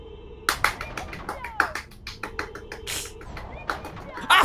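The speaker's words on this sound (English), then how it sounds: "That wasn't me clapping." Hand claps ring out in several sharp, scattered bursts across the stretch, close by and mixed in with people talking and chatting over them.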